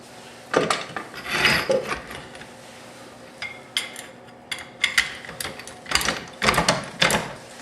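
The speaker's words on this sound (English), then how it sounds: "put a little pressure on the bottom of it to keep it from spinning while I tighten the nut down" A hand ratchet tightens a nut on the rear subframe of a 1995 Mitsubishi Eclipse, clicking in repeated quick bursts of strokes with short pauses between, close by and without talk.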